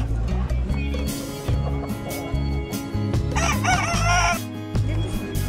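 A rooster crows loudly once, its harmonic call rising and falling, amid a busy poultry and bird market background of chatter and clatter in Izmir.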